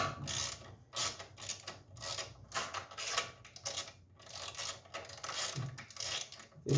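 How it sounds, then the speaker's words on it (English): A socket set backs 8mm screws out of the housing of an Ariens snow blower with a quick, repeated ratcheting click, close and fairly quiet, in short bursts with brief gaps. "See how easy these screws come out."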